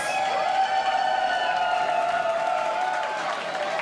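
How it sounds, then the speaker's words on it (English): Arena crowd at a combat robot fight night cheering and whooping continuously, a dense roar of voices sustained at steady loudness throughout. "Crowd, let me hear you make some noise."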